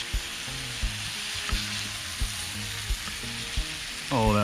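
Food sizzling in butter on a hot box prototype during a bacon and pork chop fry, a steady crackling hiss punctuated by regular sharp taps and clicks, with a short rising squeak or whine at the end.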